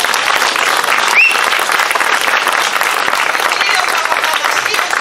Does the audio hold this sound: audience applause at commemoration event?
yes